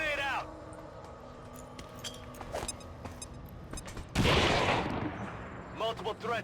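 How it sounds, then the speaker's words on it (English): A grenade goes off in XCOM 2 Long War 2, a sudden loud broadband blast about two-thirds through, preceded by scattered game effects and tones and followed by a short decaying rumble; a voice talks in places. "Okay, we're going to go normal grenade. Grenade out!"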